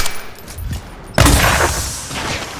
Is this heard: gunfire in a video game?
yes